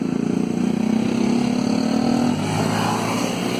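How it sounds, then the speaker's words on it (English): A motorcycle on a road in Thailand passes close by, its engine drone rising and holding loud before dropping away after a couple of seconds, with steady traffic noise continuing behind it. "that guy on a motorcycle went on through"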